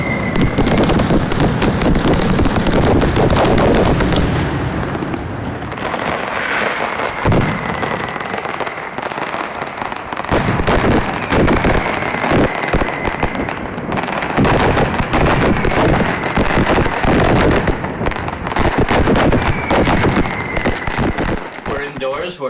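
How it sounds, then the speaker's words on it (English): Fireworks burst outdoors in dense, crackling volleys with sharp pops and booming thumps, loud and nearly continuous, with voices faintly mixed among the explosions. "I'm going to enjoy the fireworks and my sangria"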